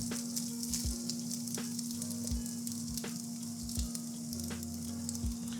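Sliced onion sizzling in a pan with chicken already cooking, a steady bright hiss with a constant low hum and periodic soft thumps of stirring.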